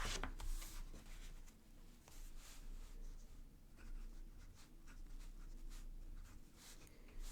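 A fountain pen with a Katana grind writing on paper, laying down a broad line in soft, quiet scratching strokes that come and go in a close, hushed room.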